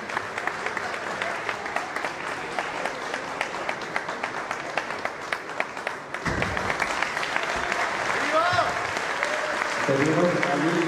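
Sustained audience applause fills a hall at an identitarian congress in Guadalajara, Mexico, dense clapping throughout, with a voice speaking over it in the second half.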